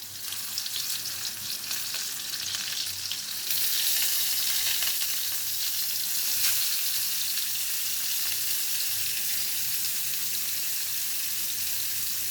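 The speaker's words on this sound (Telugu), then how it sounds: "వేసేస్తున్నాను నేను కాకరకాయ వేంపడానికి." Bitter gourd frying in a hot pan, giving a loud, dense, continuous sizzle that grows stronger partway through and carries on steadily, close up with no talking.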